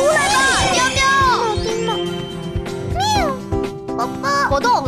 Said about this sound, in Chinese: 聆听我的召唤，出来吧，喵喵！